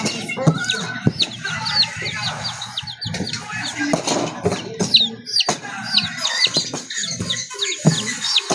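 Chickens clucking repeatedly in a backyard, close and fairly loud, with bird chirps and knocking noises around them and some faint talk.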